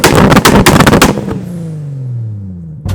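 A tuned Toyota Supra MK4 revving hard, with a rapid, loud machine-gun crackle of exhaust pops, then a long falling engine whine as the revs drop, ending with a brief burst.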